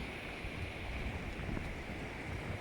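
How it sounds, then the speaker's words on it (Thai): Sea waves wash steadily along a dark shoreline at night. The surf makes a constant, broad rush with no talking. "มีที่ได้ยินเสียงก็เป็นเสียงคลื่นนะคะ"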